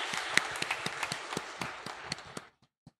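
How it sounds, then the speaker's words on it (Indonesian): A church congregation at GKJ Sitomukti claps to welcome a guest during a Sunday service. The applause is a brief, lively patter of many hands lasting a couple of seconds, then it quickly dies away to a few scattered final claps. "Tepuk tangan kita sambut untuk Mbak Yuli."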